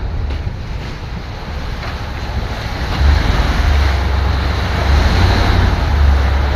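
Rough sea surges steadily with wind buffeting the microphone and a low engine rumble underneath, loud and continuous.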